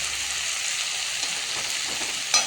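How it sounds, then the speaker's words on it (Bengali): Shrimp and pumpkin sizzle in a frying pan with a steady, bright hissing crackle, close and even, with a brief louder spatter near the end. "তারপরে চিংড়ি মাছটা হালকা ভেজে নিয়ে কুমড়োটা ছেড়ে দিই।"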